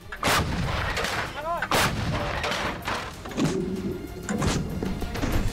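Heavy artillery and tank guns firing during Russian army training on hilly ground, with several loud, sharp booms in quick succession and rumbling echoes between them.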